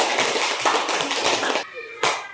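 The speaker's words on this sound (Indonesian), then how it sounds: "Tepuk tangan dulu untuk kelompok penyakit." A classroom group claps together for about a second and a half, a dense, fairly close burst. It pauses briefly before one last clap.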